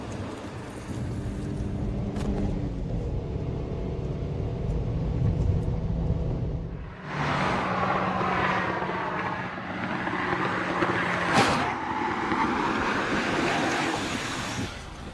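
A car braking hard during a brake pad test with the original pad fitted: a loud rolling road rumble and engine tone that shifts into a rushing, scraping surge of braking noise, recorded close.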